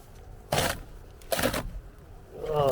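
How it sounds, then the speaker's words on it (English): Rotten wood on a boat deck floor cracks as it is jacked up: two sharp, loud cracks about a second apart, followed by creaking and a rising noise near the end. "You hear that cracking."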